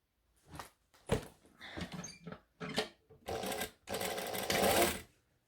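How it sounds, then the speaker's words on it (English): A sewing machine stitches a bowler bag shut in short bursts, stopping and starting several times. The whirring runs get longer toward the end, close and clear with no speech. "So we're going to want to stitch this shut now."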